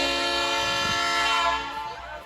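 Blue Ridge Scenic Railway excursion train sounding a loud, steady horn. The layered tone holds for about two seconds, then eases slightly toward the end, with no talk over it.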